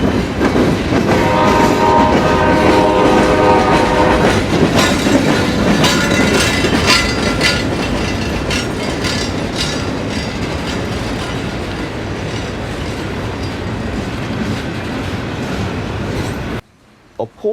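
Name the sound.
westbound local train led by two NS locomotives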